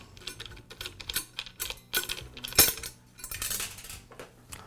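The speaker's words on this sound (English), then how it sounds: "Now I can remove the lever from the stud, and I'll unscrew the stud." A stud is unscrewed from the base of a Milwaukee metal saw during repair, giving small close metallic clicks, taps and scrapes in an irregular run.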